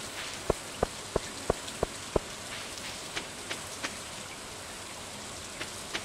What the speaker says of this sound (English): The rain is pretty, like, gross.